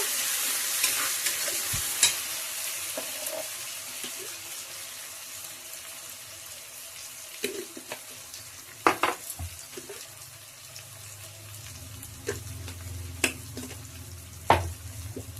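Mutton frying on low heat in a pan, with a steady low sizzle and intermittent spatula stirs and scrapes, close and moderately loud, and no talking.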